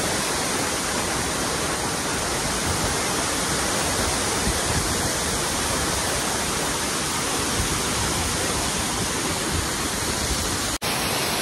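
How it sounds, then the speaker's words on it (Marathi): A waterfall beside the route on the way to a trek roars with a steady, dense, broadband rush of falling water, continuous and unbroken throughout, with no voices heard. "नाणे नाचीला जाताना वाटेतच हा आम्हाला सुंदर धबधबा दिसला"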